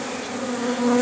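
A steady, close honey bee buzz at a hive, a continuous drone that swells slightly toward the end, with no voices.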